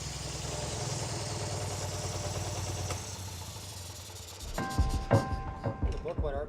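An old tank engine, left unrun for over 20 years, idles with a steady low rumble that fades, then gives way to uneven knocks and clanks near the end.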